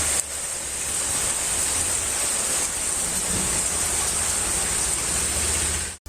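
Heavy rain pouring down in Madurai, a dense, steady roar of water that stays constant before cutting off abruptly at the end.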